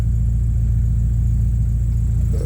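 A cold Nissan S13 Silvia engine idles steadily close by, a loud, even low rumble with a regular pulsing rhythm and no speech over it.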